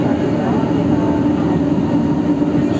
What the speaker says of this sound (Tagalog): pababa na naman yung release ng train na ito, Martin